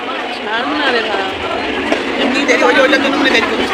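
Inside a passenger train waiting to pull out, a steady rumble of the carriage fills the space while several people talk and chatter nearby throughout.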